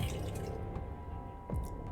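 Water poured while mixing a cleaning solution in the game The Seance of Blake Manor, soft splashing and dripping with a quiet watery gurgle, faint and close.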